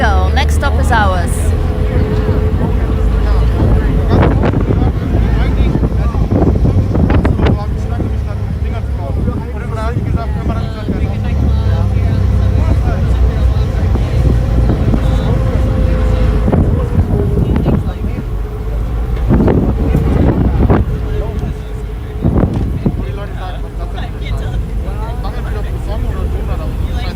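Strong wind buffets the microphone on a ferry ride in New York, a loud continuous rumble with gusty bursts and engine drone underneath, and voices faintly mixed in.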